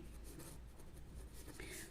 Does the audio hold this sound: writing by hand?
yes